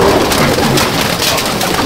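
Purebred Madras pigeons in a loft at Andul, Howrah, make a short, close burst of cooing and rustling wing noise over a dense, rain-like background hiss.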